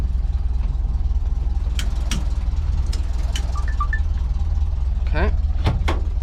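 A 1977 VW Bus engine idles with a steady low rumble, close and constant, while a few sharp knocks and clicks and brief bird-like chirps sound over it.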